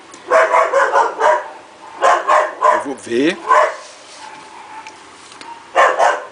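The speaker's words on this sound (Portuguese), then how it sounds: "O cachorro latindo agora." A dog barks in short bursts of several rapid barks separated by quiet gaps, moderately close, while someone talks over and between them.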